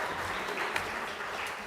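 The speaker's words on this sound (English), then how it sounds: "And now we can give also the traditional clap." An audience at a European community event delivers a short burst of dense, continuous clapping, steady and fairly near, lasting under two seconds.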